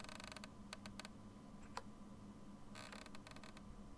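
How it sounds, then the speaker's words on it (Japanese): A door creaking open in the video game Ib, a series of short dry creaks and clicks in two bursts with a gap between them, faint over a low hum. "やだな、きしむ音やだな。"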